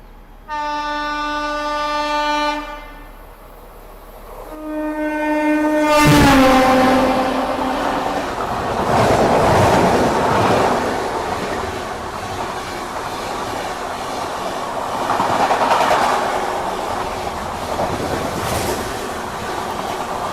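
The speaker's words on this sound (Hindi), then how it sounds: "तो सामने से आ रही है महाराष्ट्र संपर्क क्रांति एक्सप्रेस" Maharashtra Sampark Kranti Express passing close by after a loud multi-tone horn blast, its rumble and wheel clatter swelling into a sustained roar that continues to the end.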